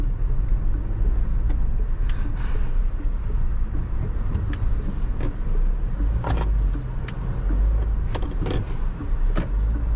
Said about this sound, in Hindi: चलो आपको थोड़ी ऑफ रोडिंग करवाई जाए, गाड़ी को टेस्ट भी तो करें।